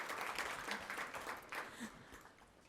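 A seminar audience at TD Garden applauds after a panel discussion, the clapping soft and somewhat distant, tapering off over a few seconds.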